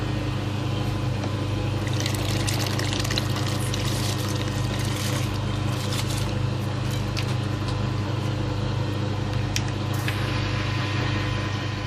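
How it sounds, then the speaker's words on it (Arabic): Rice tipped into a pot of boiling water on the stove, a continuous rushing, bubbling pour with a steady churning roar throughout, close and loud, no voices. "نجيب التمن ونذبه بالمي المغلي"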